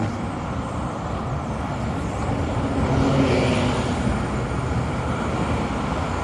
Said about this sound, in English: It's noisy on here because of all the traffic and buses.